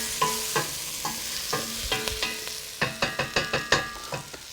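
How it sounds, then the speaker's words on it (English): A spoon scrapes and clanks rhythmically against a pan while London broil, potatoes and peppers are stirred, with a soft sizzle underneath and a quickening run of metallic strokes toward the end. "Mix it up real well"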